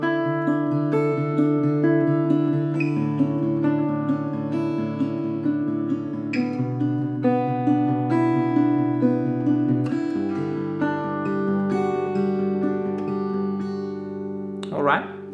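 An acoustic guitar strums rich chords with extensions in a rhythmic pattern, each strum ringing out clearly and alone for the whole stretch.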